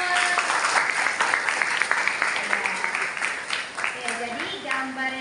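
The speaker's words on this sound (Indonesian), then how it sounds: "Oke, tepuk tangan untuk Salwa." Classmates in a school lesson applaud a student, a brisk patter of many hands clapping together with chatter and voices mixed in over the clapping.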